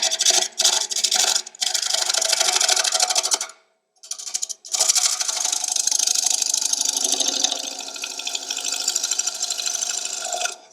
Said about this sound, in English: See the nice fine shavings I'm getting with that shear cutting with that scraper